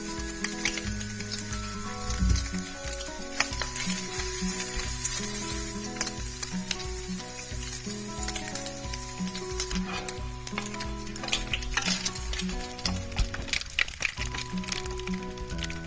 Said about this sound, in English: Allow the bacon to cook and to generate the bacon